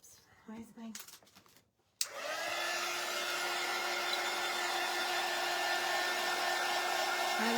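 A hair dryer blows hot air over fresh paint on a budget pumpkin lantern craft, switching on abruptly and running as a loud, steady whoosh with a constant whine; brief talk and handling noise come before it starts.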